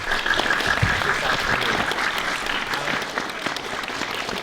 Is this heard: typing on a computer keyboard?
no